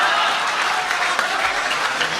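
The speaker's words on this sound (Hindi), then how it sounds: "जोरदार तालियां एक बार जहाज देवबंदी साहब के लिए।" A crowd at the 2023 Patna mushaira poetry recital claps hard and steadily, with loud, dense applause filling the whole stretch without pause.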